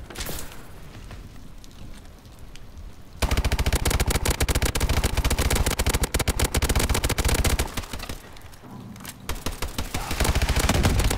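Goliath firing rockets in Call of Duty, a dense roar of rapid automatic fire and blasts that erupts after a quieter start and continues with brief breaks.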